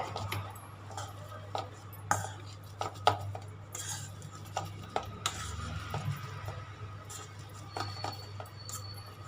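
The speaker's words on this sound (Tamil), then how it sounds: "இப்போ இதை நல்லா மசிச்சிக்கணும்" Boiled potatoes being mashed in a bowl, with soft squishing and intermittent metal clinks and scrapes over a low background hum.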